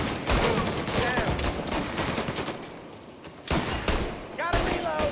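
Gunfire erupts in Mafia Definitive Edition, loud bursts of rapid shots in two clusters separated by a short lull, with shouting voices mixed among the shots.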